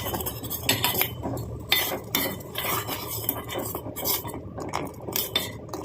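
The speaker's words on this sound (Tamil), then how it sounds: "நல்லா கலந்து விட்டுக்கோங்க" A spoon stirs a thick jaggery and sugar mixture in a metal pot, with repeated scraping and clinking strokes against the sides, close and fairly steady, with no talking.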